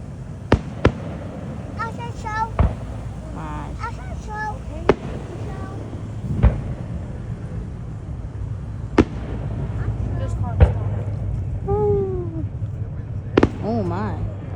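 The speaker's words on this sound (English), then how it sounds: "How many fireworks do they have" Fireworks bursting at an outdoor fireworks show, a string of sharp distant booms and crackles spread irregularly through the clip, with people chatting and exclaiming in between.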